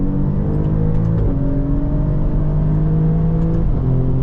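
A 2.9-liter Ferrari-derived V6 of a 2024 Alfa Romeo Giulia Quadrifoglio on a race track, a loud, steady engine drone from inside the car rising in pitch, with two quick gear changes briefly dipping the tone.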